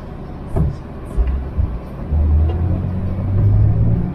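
A taxi car drives along, heard from inside the cabin as a low rumbling engine hum that swells and settles, with a few brief knocks and faint background voices.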